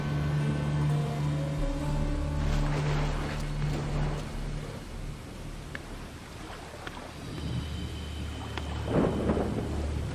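A storm in the Assassin's Creed Odyssey video game: deep thunder rumbles and rolls under a steady wash of rain, with a louder crack of thunder building near the end.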